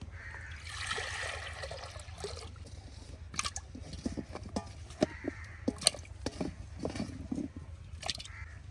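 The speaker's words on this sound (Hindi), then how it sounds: "थोड़ा सा पानी मज़ीद शामिल कर लेंगे ताकि आलू जो अच्छी तरह उबल जाए।" Water is poured into a clay pot of potatoes set on a wood-fired earthen stove for boiling, making uneven splashing and trickling sounds with small knocks over a low background rumble, without talk.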